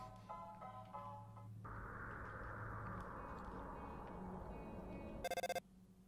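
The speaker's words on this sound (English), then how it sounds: "Phone call. Ring." Phone ringing in the Undertale video game, a short burst of rapid electronic trilling near the end that follows a steady background hum.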